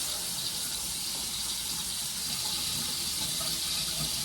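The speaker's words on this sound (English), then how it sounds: "I'm gonna just wash my hands" Water from a bathroom tap runs steadily as hands are washed under it, a constant close hiss of flowing water filling the whole stretch with no talk.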